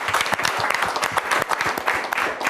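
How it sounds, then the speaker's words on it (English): A crowd gives the leader of the band a round of applause, a loud, dense and continuous burst of many hands clapping close by. "Please give him a round of applause."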